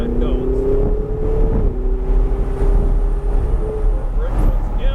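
A car accelerating around the track at Sonoma Raceway, its engine drone loud and steady from inside the cabin, with pitch rising and falling over changes in speed.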